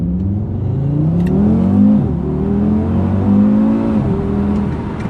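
An Audi RS3's 2.5-litre five-cylinder engine accelerates hard through two gearshifts, its rising growl dipping briefly at each change before climbing again, loud and close with no talk.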